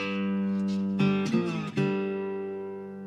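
A tricone resonator guitar plays an instrumental: sustained, ringing chords with strong overtones. Two brief strummed accents occur near the middle, then the final chord rings out and slowly decays. There is no voice.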